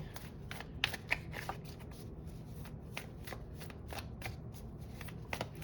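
Tarot cards shuffled by hand, a run of crisp riffling flutters and soft slaps in uneven bursts, close and quiet, with no talking.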